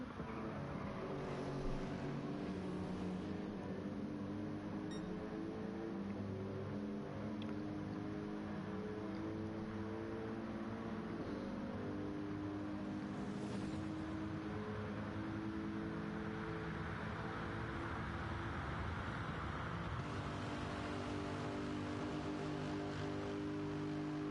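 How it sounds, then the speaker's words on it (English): GT race cars lap the Le Mans circuit in a racing video game. Several engine drones overlap continuously, sliding up and down in pitch as cars pass, at a fairly quiet level with no talking. "Enjoying this beautiful sound of these race cars as I sit along and watch people go around this track"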